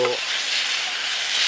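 A camping stove burns too hot at a hammock camp, giving a steady, close, loud roaring hiss that carries on without a break.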